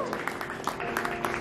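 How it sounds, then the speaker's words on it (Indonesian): A church congregation at a Sunday worship service claps briefly, a dense patter of hands under steady keyboard music filling the room. "buat Tuhan Yesus, tepuk tangan."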